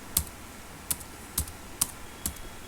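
Typing on a computer keyboard: five crisp, separate keystrokes spaced about half a second apart, close and fairly quiet over a soft room hiss.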